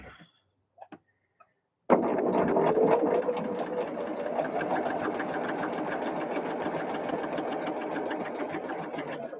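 A sewing machine stitches quilt pieces together, starting abruptly after a moment of near silence and then running steadily at a fast, even, close-up hum and rattle with no talk.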